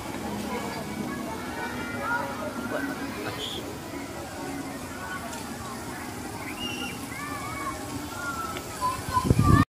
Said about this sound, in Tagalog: Ayan kitang fountain.